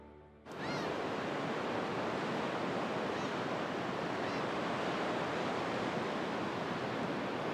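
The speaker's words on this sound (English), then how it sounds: "The vast Pacific Ocean stretches out from the small fishing town of Okuki." Pacific Ocean surf off a small fishing port town at the northern tip of Japan's main island: a steady, loud, unbroken wash of waves that starts abruptly and continues without pause.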